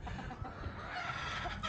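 Chickens cluck steadily at close range in a backyard gamecock setting, a dense run of fowl calls and soft rooster sounds with no talk.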